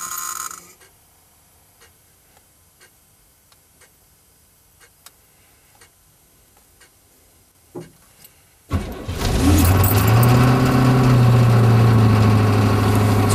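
Diesel engine of a 1983 Chevy K20 4x4 Suburban: a long quiet stretch of faint ticking and clicks, then the engine fires and settles into a loud, steady, rumbling idle close by.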